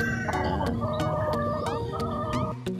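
A lemon white legs gamefowl rooster clucks repeatedly in a backyard farm, close and clear, with a rhythmic series of short calls among other fowl.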